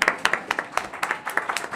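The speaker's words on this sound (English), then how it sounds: "Oh, go ahead, applaud" Scattered, sparse clapping from a small town meeting audience, a handful of distinct hand claps in loose rhythm, fairly close, with no voices.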